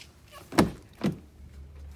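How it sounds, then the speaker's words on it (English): Two quick mechanical clunks about half a second apart, a 2015 Ford F-150 pickup truck door unlatching and swinging open, close by with a faint hum underneath. "Swing the door open."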